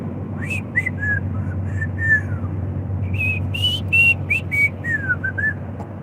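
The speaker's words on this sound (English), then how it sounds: "That was extremely loud whistling." Loud, shrill whistling with rising and sliding notes, a string of short bursts over a low steady rumble inside a moving Ram vehicle, no talking.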